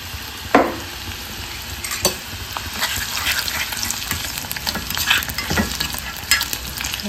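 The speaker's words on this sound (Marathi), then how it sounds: "ते आपलं तेल गरम झालेलं आहे. आता आपण याच्यात घालू हा लसूण." Plenty of garlic fries in hot oil in a home kitchen, a close continuous sizzle broken by sharp scrapes and clinks of a spoon stirring against the pan.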